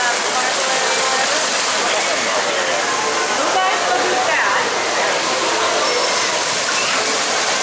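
At a theme park water play area, a pipe sprays water onto dog statues, making a loud, continuous rushing splash that fills the whole stretch without a break.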